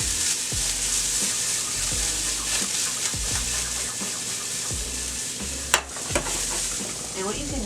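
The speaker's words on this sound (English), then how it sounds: "So just give this a stir." Mushroom risotto being stirred in a pan, a gentle sizzle and soft repeated scraping strokes at a steady rhythm, with a brief louder clatter near the end.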